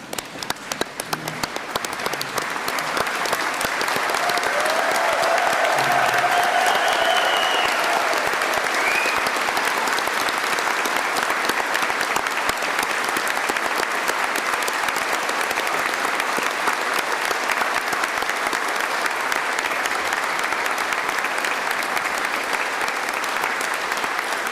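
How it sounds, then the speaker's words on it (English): Sustained applause from a graduation ceremony audience honouring the graduates, steady and dense for about twenty seconds, with faint voices mixed into the clapping. "join me in one last round of applause for our graduates today"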